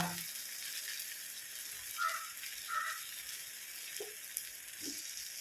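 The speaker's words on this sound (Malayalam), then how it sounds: "ഇത് സൺഫ്ലവർ ഓയിലാണ് വറുക്കുന്നത് അതാണ് ഈ പത" Sunflower oil sizzles steadily as bitter gourd deep-fries, a constant crackling hiss with a few soft clinks and bubbling pops close by.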